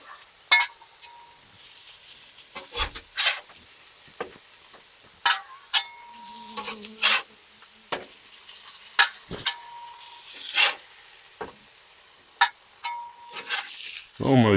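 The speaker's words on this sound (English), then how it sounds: "What we'll do, give these a flip." Ground beef smash burgers sizzle on a hot griddle as they are flipped, with sharp metal spatula scrapes and clanks punctuating a steady frying hiss.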